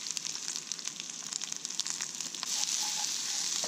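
Onions added to potatoes frying in a pan at a camp breakfast, a soft continuous sizzle with crackly spitting that grows steadier and louder partway through, close and without talk.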